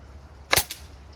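An air rifle fires one sharp, loud crack at close range, followed a moment later by a smaller mechanical snap, with quiet surroundings and no talking.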